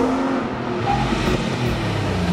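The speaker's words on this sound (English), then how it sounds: "The Lotus Tri-Fuel Exige 270E demonstrates the potential of FFV engines perfectly." Lotus Tri-Fuel Exige 270E flex-fuel sports car engine, a loud continuous rumbling drone without talk.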